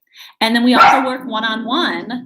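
A pet dog barks and yips several times in short bursts, loud and close, overlapping a man's speech.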